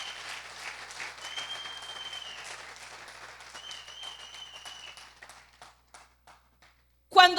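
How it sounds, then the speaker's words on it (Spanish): Steady applause from a church congregation during a worship service fills most of the stretch, fading out toward the end before a sudden loud burst of noise closes it. "¿Le puedes brindar un aplauso al Rey?"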